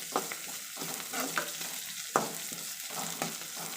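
Green chillies and onions are sautéed in a pan, with rhythmic spatula scrapes and stirring strokes over a light sizzle, close and moderate in level, with no speech.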